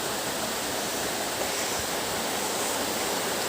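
Rain falls steadily at an outdoor village cooking spot, a continuous, even broadband hiss with no gusts and no voices.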